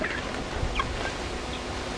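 Poultry in a homestead chicken pen clucking and calling, soft scattered clucks and a gobble-like call over steady outdoor background noise, moderately close with no talking.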